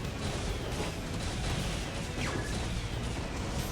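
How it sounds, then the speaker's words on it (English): Many Wraiths dying at once in a StarCraft Brood War Remastered match: a dense, continuous roar of overlapping explosions and crackling bursts, loud and steady throughout with no clear gaps. "And that is the sound of a lot of Wraiths dying."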